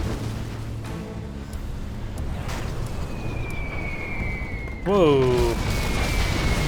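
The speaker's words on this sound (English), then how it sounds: "There's a carpet bomb and the EMP bomb." Explosions from carpet bombs and an EMP bomb in the strategy game Command and Conquer: Generals Zero Hour thud through a low rumbling battlefield bed, with a sudden heavier blast near the end; a man briefly exclaims.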